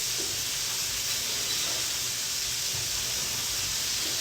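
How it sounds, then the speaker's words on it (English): A Wagyu beef patty sears in hot oil, giving off a loud, steady hiss and sizzle that holds evenly throughout, close and constant with no pauses. "I'm just going to make sure I'm getting even searing on that"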